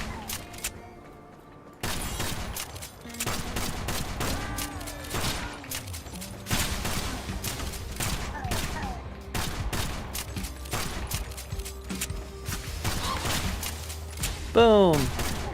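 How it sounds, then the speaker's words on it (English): Rapid video game gunfire aimed at a boss, with dense bursts of shots and thuds running almost nonstop at close range, plus a few electronic tones and a brief rising zap near the end. "just get behind him and shoot him in the back"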